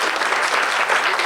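A short burst of dense, steady applause from an audience honoring a high school student of the month, loud and close with no talking over it.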